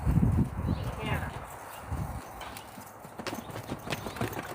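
Horse hooves at a canter during a training session, a quick uneven run of dull thuds close by, with a voice talking over parts of it.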